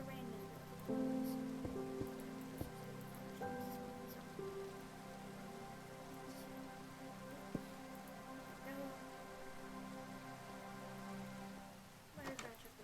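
Even Minecraft rainfall hisses gently and without pause throughout, joined by faint held game tones and occasional light clicks.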